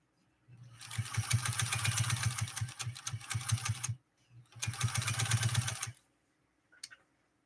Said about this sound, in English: I love the sound of the rotary machines